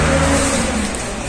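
A car on a busy central road passes close by with a loud, steady engine whir that eases off slightly toward the end.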